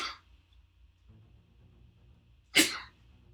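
Two sharp sneezes, one at the very start and a louder one about two and a half seconds later, over a quiet low hum in a room.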